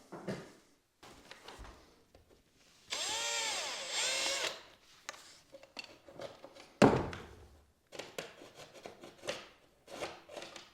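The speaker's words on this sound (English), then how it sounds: "drill a small pilot hole first" A power drill whirs steadily for about a second, drilling a small pilot hole in drywall, surrounded by scattered knocks, scrapes and handling noises up close.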